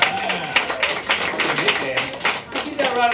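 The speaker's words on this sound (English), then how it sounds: "Keep that round of applause going to your next player, Caroline." A comedy game show audience keeps up a round of applause, dense clapping and some cheering that carries through the whole stretch, with a host's voice talking over it.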